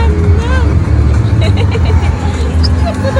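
A car being driven gives a steady, close low rumble throughout, with people chattering over it.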